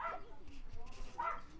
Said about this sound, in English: Oh my god, there goes the dog.